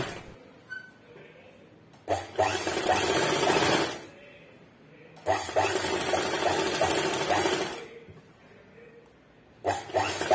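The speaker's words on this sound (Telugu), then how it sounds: "ఒక్కసారి కన్ఫ్యూజ్ కాకుండా మళ్ళీ నీట్గా కుట్టుకోండి" A sewing machine stitching a kurti converted from a nighty runs in three bursts, two long steady whirring runs of a few seconds each and a short start at the end, close and loud with quiet pauses between.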